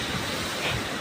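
Strong wind roars steadily across the microphone during a mountain trek on Kumara Parvatha, a continuous loud rushing with a brief gust swelling near the end, no voices.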